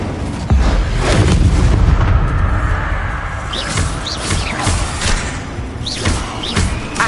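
Spell blasts cast in Hogwarts Legacy combat, a heavy boom at about half a second followed by repeated thumping impacts, whooshes and crackling bursts spread across the next several seconds.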